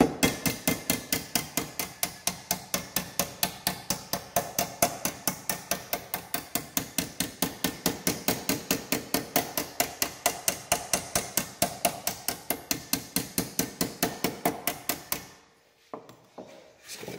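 Hammer pounding steel to form a curve on a 1930s pedal car replacement part, rapid, evenly spaced metallic blows repeating dozens of times close by, then stopping abruptly near the end.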